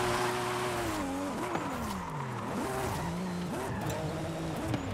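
A Mazda RX-7 FD in Forza Horizon 5 races hard along a mountain road, its engine revving up and down through gear changes with repeated tire squeal, loud and close throughout.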